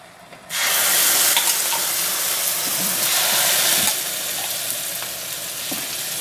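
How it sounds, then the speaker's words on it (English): Loud, bright sizzling bursts up as fresh Puerto Rican sofrito made from ají dulce hits a hot pot, then keeps frying steadily with occasional pops and stirring clinks. "I'm going to put the sofrito in there. I'm going to hear the sizzling."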